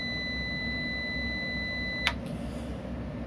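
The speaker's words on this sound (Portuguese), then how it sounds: "Padrão de fábrica, ele vem configurado para apitar, ter os seus alarmes aí sonoros." A Must Solar 3000W MPPT hybrid inverter sounds a steady electronic beep for about two seconds after its Enter button is pressed, then stops with a sharp click over a low background hum.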